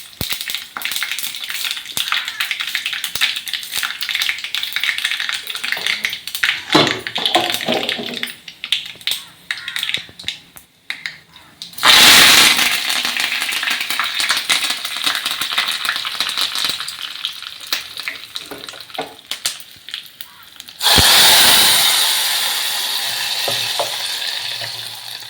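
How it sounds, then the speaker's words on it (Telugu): Cumin, mustard seeds and dried red chillies sizzle and crackle in hot oil in a home kitchen, a dense close frying hiss with stirring, plus two sharp loud surges of sizzle as more goes into the pan. "నూనె అయితే వేడైంది. కొంచెం జీలకర్ర ఆవాలు ఎండుమిరపకాయలు కానీ వేస్తున్నాం."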